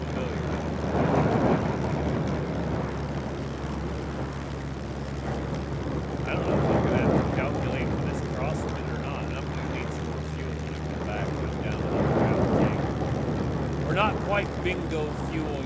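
An aircraft engine in the video game SCUM drones steadily in flight, a continuous low hum that swells slightly at times while people talk over it.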